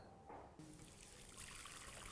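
Chicken cooking liquid (jhol) is poured over cooked chicken for butter chicken kofta, making a faint, steady trickle and splash that lasts a couple of seconds, with no talking.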